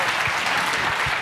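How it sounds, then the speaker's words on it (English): An audience at a pitch-competition finals event applauds, a dense, close wash of clapping with no break for the whole moment. "She deserves a round of applause for going first."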